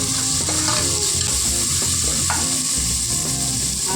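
Chopped tomato with a pinch of salt sautés in a pan for a country-chicken dish, giving a steady, close sizzle with spoon scrapes and stirring clatter throughout, and no voices.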